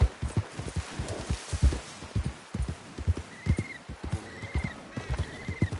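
Horse whinnies and hooves clip-clop in a PS4 video game, rhythmic thudding strides galloping steadily throughout with a couple of shrill neighs riding over them, close and fairly loud.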